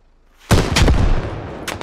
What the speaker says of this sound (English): I think that's Morgan actually shooting now